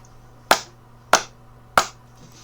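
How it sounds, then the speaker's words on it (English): Sharp claps from two slightly misaligned audio tracks sound as doubled hits, three crisp snaps spaced about half a second apart against a quiet background. "You'll be able to hear a double clap."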